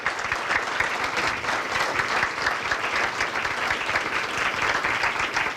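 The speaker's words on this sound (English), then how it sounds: "So let's give him a round of applause." Steady, dense applause from an audience at a fitness club's 30th anniversary celebration, loud and continuous throughout with no voices over it.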